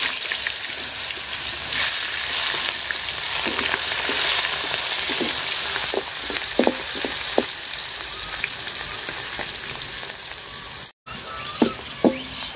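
Onion and chopped chili fry steadily in fish oil, a dense continuous sizzle with scattered crackles and occasional light clicks of a utensil against the pan.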